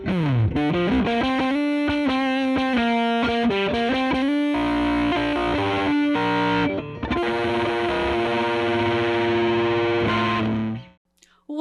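Inexpensive Donner electric guitar through a pricey fuzz pedal, playing a dense, buzzing distorted riff that shifts into sustained chords before cutting to silence, alone with no speech.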